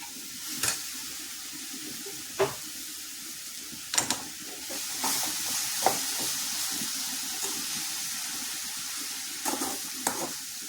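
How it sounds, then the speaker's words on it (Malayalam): Neem and curry leaves are stirred in a hot pan: a steady sizzling hiss with occasional sharp scrapes and knocks of the spoon against the pan, close and clear, with no talking. "ഇത് നന്നായിട്ട് ഇളക്കിയിട്ട് മൂടി വെച്ച് കൊടുത്താൽ മതി."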